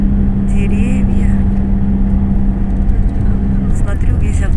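A full tour bus rolls along a road past olive trees in Turkey, its cabin filled with a constant loud droning hum while voices talk over it.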